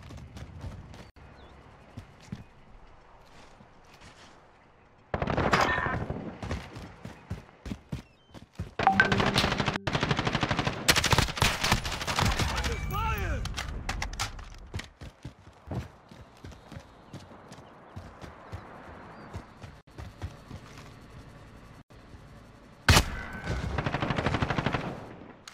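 Gunfire in the video game Modern Warfare, with loud bursts of rapid shots and heavy firing in the middle stretch, separated by quieter gaps.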